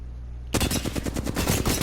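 Rapid automatic gunfire in the battle royale game Apex Legends, a sharp burst of closely spaced shots that erupts after a half-second of quiet and keeps hammering loudly to the end.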